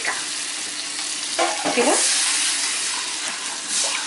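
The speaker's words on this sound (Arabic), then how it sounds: "بقلبهم مع بعض. بعد ما بقلبهم بشيل منهم المعلقة اللي هي صنوف وببتدي أصفيها بالمصفى" A cooking mixture stirred in a pot with soft scraping and bubbling, then liquid poured and strained through a strainer with a brief splashing rush; a voice speaks faintly at one point.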